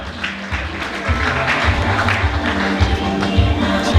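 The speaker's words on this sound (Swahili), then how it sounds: "makofi kwa ajili yake tafadhali" Students and guests applaud at a secondary school graduation ceremony with a steady patter of many hands, backed by a low rhythmic hum from the hall's sound system and faint crowd murmur.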